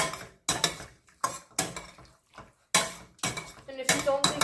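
Pasta and parsley being mixed in a pot, with repeated sharp metal utensil clanks and scrapes in an irregular rhythm, fairly close and fading between strikes.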